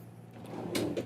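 An ambulance supply drawer holding IV supplies slides open or shut, giving a short rumble and two close knocks near the end of a brief moment, with no talking.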